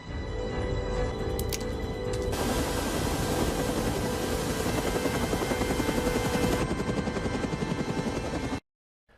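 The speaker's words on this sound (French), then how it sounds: "Tank, I need a pilot program for a B-212 helicopter." A helicopter's steady, loud rotor roar and engine whine holds for several seconds, then cuts off abruptly near the end.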